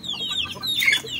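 A young Joloano native stag rooster clucks close by, a short run of soft, rising calls ending in a brighter squawk, heard alone.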